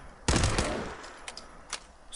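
A loud burst of gunfire from a weapon in the video game Fallout 4, a close rapid volley followed by a few fainter trailing shots and clicks.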